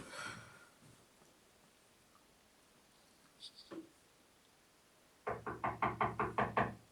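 Seven firm knocks land in a quick, even run on a door, loud and close, after a few seconds of near silence broken by a couple of faint thumps.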